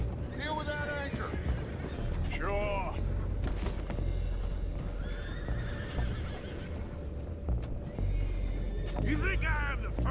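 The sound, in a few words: horses neighing, video game Red Dead Redemption 2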